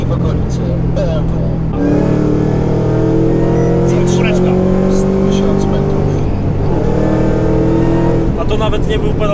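A 756 hp Mustang Shelby GT500 accelerates hard, its engine note climbing in a loud sustained drone heard from inside the car, with people talking over it.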